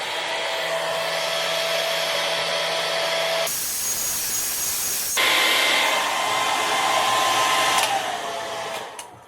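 A hair dryer blowing on high heat runs loud and close throughout, a steady roaring whoosh that changes pitch as the setting shifts briefly midway, then cuts off at the end.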